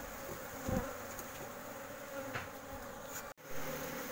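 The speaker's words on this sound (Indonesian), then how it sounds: "Ini dia, para lebahnya sudah pada kumpul di dalam." Asian honey bees (Apis cerana) swarm into a hive box, their dense buzzing hum steady and close throughout, with a few brief knocks and one short dropout but no talking.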